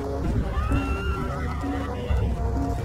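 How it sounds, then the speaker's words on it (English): A horse neighs in a long, loud, wavering whinny over a dense rumble of hooves and movement, with more whinnies rising out of the steady noise. "Horses gave Europeans another massive advantage."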